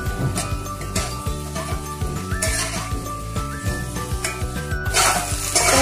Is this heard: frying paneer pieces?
yes